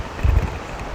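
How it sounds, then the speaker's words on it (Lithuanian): A brief gust of wind buffets the microphone on an upper-floor outdoor seat in Hong Kong, a short low rumble before settling into a faint airy hiss. "čia irgi vėjas papučia"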